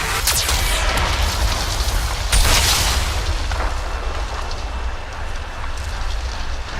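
A Geth cannon fires in the Mass Effect video game, a loud booming blast followed by a sustained crackling rumble like falling debris, continuous and close.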